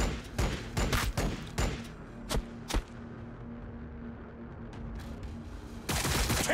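Gunfire in the Warhammer 40K Battlesector strategy game, a volley of sharp, cracking shots in quick irregular succession, then a quieter lull with a couple of isolated reports before another loud burst at the end.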